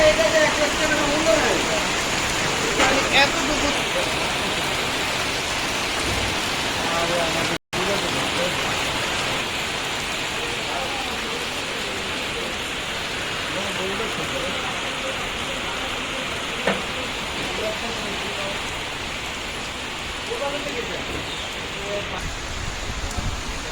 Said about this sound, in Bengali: বাইরে এখন বৃষ্টি হচ্ছে